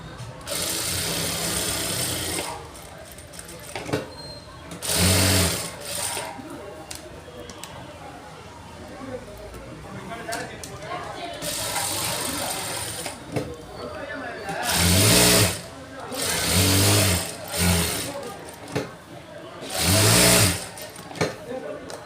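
Bursts of sewing machine stitching on a lined blouse, several runs of a few seconds each, standing out over a steady background with talk in between.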